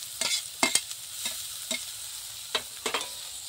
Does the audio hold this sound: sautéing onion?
yes